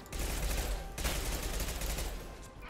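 Rapid gunfire from a low-accuracy gun in Mass Effect 2 Legendary Edition on Omega, a dense, continuous burst of shots lasting nearly three seconds with a brief break partway through.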